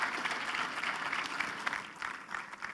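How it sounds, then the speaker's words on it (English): A conference audience in a full room gives a round of applause, a steady burst of many hands clapping that swells and wavers slightly over a few seconds. "Just give a big applause to Will, the Culture Fix"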